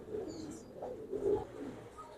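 Pigeons coo softly in a few low, rounded phrases, with quiet chirps and faint background sounds between them. The birds are show-standing fancy pigeons with silver, golden and blue plumage.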